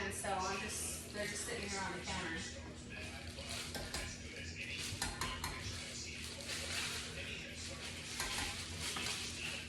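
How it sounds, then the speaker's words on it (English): A butter and flour roux cooks in a pan, stirred with a utensil that scrapes and taps against the metal. A gentle bubbling sizzle runs beneath it, with a person talking over it. "Just kind of making a roux, right? This is what a roux is, butter and flour."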